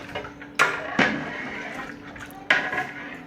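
Mutton and potato curry stirred in a metal pot, with a few sharp clanks of a spoon against the rim over a soft, wet churning, fairly close.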